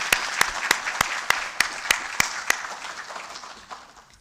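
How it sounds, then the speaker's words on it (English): Audience applause for a Vice Chancellor at an inaugural professorial address, with sharp regular claps standing out over a dense clapping wash that fades toward the end. "Let's give another round of applause for our Vice Chancellor."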